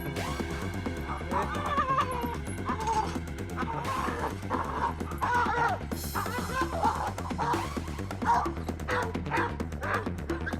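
An aggressive pit bull on a walk lets out repeated loud barks mixed with yips and whimpers, close and insistent, in bursts across the whole stretch with no speech.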